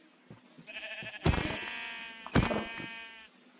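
Sheep in Minecraft bleat twice in close succession, a wavering, nasal call that is clear and fairly near, with a quiet background between the calls.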